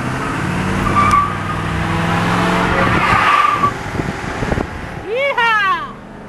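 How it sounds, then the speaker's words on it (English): Pickup truck doing a burnout, engine revving with harsh tire squeal and skidding noise close by, a sharp rising whine near the end, with people talking over it. "let's see if I can smoke that tire a little bit"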